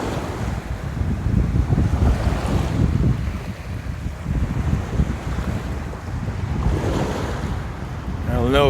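Steady wind and breaking surf at Bunche Beach roar loudly and continuously, with gusts buffeting the microphone in a broad, rushing wash of sound.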